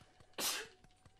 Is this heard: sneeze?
yes